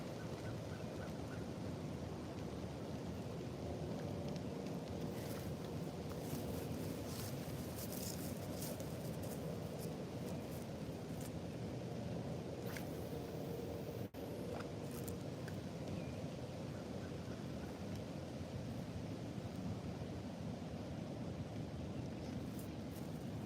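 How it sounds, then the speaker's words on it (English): Steady wind noise buffets the microphone beside a pond, a constant low rumble with occasional faint higher sounds in the background. "it's a little windy"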